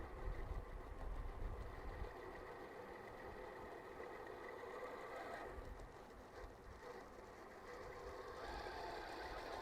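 A custom Traxxas TRX4 RC crawler with a VS410 build runs its electric motor in a continuous whirring drone that swells and eases as it speeds up and slows. The sound is steady and moderately quiet, with no voices.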